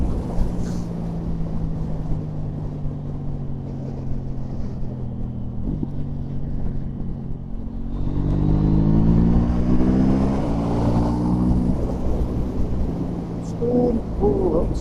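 A motorcycle ridden along the road, its engine droning steadily with wind rush, the pitch rising and falling through gear changes near the rider.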